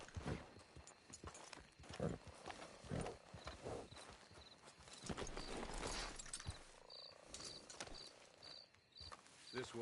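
Horse hooves clip-clop steadily as a hitched wagon is pulled along in a video game, the rhythmic knocks mixed with creaks, an occasional whinny and crickets chirping in the background.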